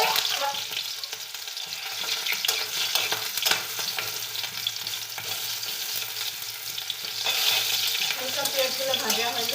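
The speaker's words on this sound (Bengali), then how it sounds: "এখন পেঁয়াজ আর একটু মরিচ দিয়ে দিব" Onions and a little chili frying in a pan for noodles, a steady close sizzle with stirring scrapes throughout and no voices.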